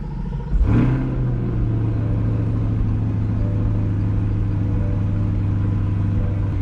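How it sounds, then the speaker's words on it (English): A 2020 Chevrolet C8 Corvette fires up from a cold start with a loud, sudden bark that settles into a steady, deep, rumbling idle, close by and sustained with no talking. "But let's get a cold start."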